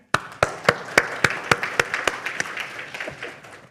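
A panel-session audience at a development forum claps in about a dozen sharp, evenly spaced beats, fairly near and loud, thinning out toward the end.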